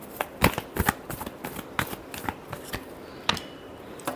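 A deck of tarot cards is shuffled by hand in quick riffling bursts and soft slaps, close and alone with no talk.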